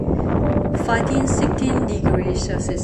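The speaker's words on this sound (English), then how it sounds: "The wind is blowing." Wind gusting on a beach, heavy rumbling buffeting against the microphone, loud and constant under a person talking.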